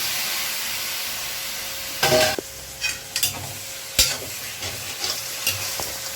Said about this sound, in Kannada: ಇವಾಗ ಬೆಂದಿರೋ ಮಾಂಸನ ಇದಕ್ಕೆ ಹಾಕೋಣ